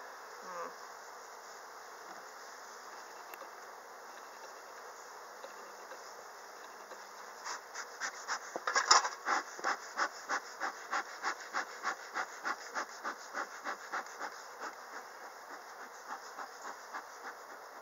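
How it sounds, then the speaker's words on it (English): Ants are scraped off a beehive frame during an April apiary check. A run of evenly spaced scraping strokes builds up and then tapers off, over a steady hum from the hive. "I just want to scrape off some of those ants."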